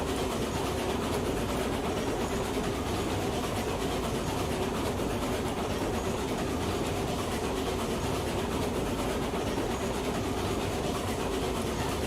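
Train rolling along track in the Railroads Online video game, a steady continuous rumble with faint rail clatter running at even loudness throughout, no talk.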